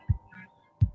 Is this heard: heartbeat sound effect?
yes